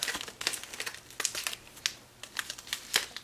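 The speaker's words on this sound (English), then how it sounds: "Comes in these little pouches." A resealable tea pouch crinkles and rustles open up close, a quick run of crisp plastic crackles and snaps with brief pauses between them.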